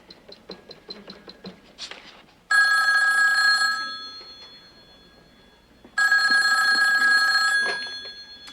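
A telephone rings twice with long bright electronic bursts, each loud then fading, preceded by a series of quick ticking clicks.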